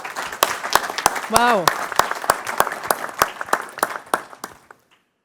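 An audience at a games industry panel event applauds, a burst of scattered, fairly close hand claps that thins out and fades to silence, with a brief exclamation from one voice.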